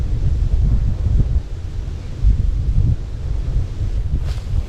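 Strong wind buffets the microphone beside a fishpond while a square lift net is raised for tilapia, producing a loud, continuous low roar with gusty surges throughout.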